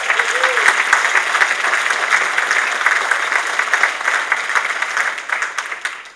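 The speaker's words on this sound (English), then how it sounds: "I think they all deserve a round of applause." Audience at an awards ceremony breaks into loud sustained applause, dense clapping filling the room for several seconds before tapering off, with a brief voice at the start.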